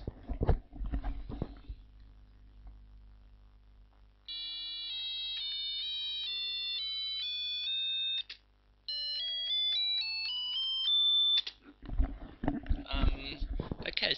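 Simple electronic beeping tones generated by an Arduino, played from a PS2 keyboard, form a stepwise melody, bright and thin, bracketed by handling noise and clatter at the start and end.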